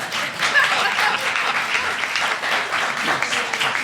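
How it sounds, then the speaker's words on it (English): Steady audience applause at a public meeting on criminal record expungement, a dense wash of many hands clapping at even loudness throughout, with no voices rising above it. "So whatever applause you gave Jordan, I better get my fair share."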